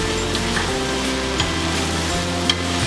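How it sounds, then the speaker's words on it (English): Onions browning in olive oil in a pot, giving a steady, even sizzle and crackle with a few faint pops and a low kitchen hum beneath, with nobody talking. "So we're just browning our onions now."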